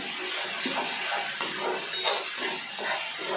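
Food roasts in a pan with a steady close sizzling hiss, and light scraping and stirring clatter comes and goes throughout.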